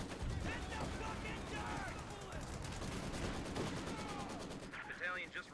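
Gunfire crackles during an attack on a capture point in a large-scale online war game, with dense bursts and rattling shots sustained throughout over a busy battle din.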